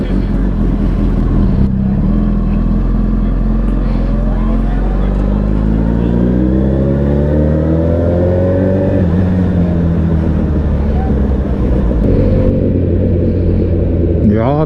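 A Suzuki Hayabusa motorcycle engine runs loud and close, its pitch climbing and falling through several rising revs over a steady rumbling idle.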